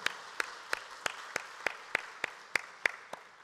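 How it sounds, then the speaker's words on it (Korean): A church congregation applauds its teachers with slow, evenly spaced claps, about eleven sharp distinct hits in a steady rhythm, fairly faint and alone. "박수 한번 격려하겠습니다"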